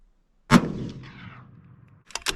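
A single loud rifle shot from a 7 PRC or 7 Rem Mag cracks out at an outdoor range and rolls off in a decaying boom, followed by a couple of brief metallic clicks.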